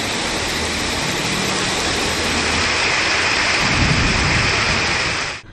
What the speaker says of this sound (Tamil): நேற்று கனமழை பெய்தது